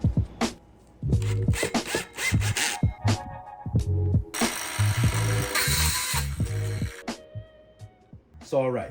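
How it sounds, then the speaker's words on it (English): A 3-inch hole saw on a power drill bites into a 5-gallon plastic bucket in short, uneven bursts of grinding and rubbing, swelling into a sustained harsh cut near the middle before stopping. "you got a 3-inch hole saw here. And we're just going to place that right down the middle of the bucket"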